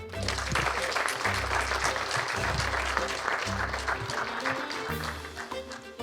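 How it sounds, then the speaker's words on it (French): An audience at a cooking competition final claps in sustained, dense applause, loud and even throughout, with a steady low hum underneath. "vous méritez un grand applaudissement pour ça"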